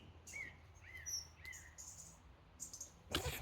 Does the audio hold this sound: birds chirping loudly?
yes